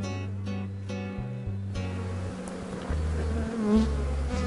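Honeybees buzz steadily around beehives in the Extremadura countryside, a dense, continuous insect drone with a low hum underneath and no voices.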